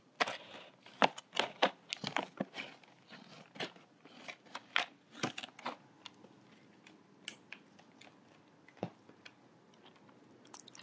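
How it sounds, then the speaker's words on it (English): Scissors cutting open a package snip close by in quick, irregular cuts with crinkly crunches between them, quiet and without voices. "I think I'll use the scissors for that"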